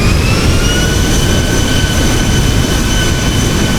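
Boeing 737 MAX jet engines roar in reverse thrust during the landing rollout, a loud, steady broadband rush with faint whining tones running through it and no talking.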